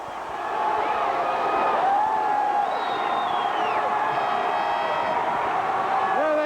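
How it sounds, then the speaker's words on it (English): Continuous cheering from a huge crowd at the 1996 New York Yankees World Series victory parade in New York, loud and steady with whistles and shouts piercing through, while an announcer talks over the roar. "Listen to that crowd."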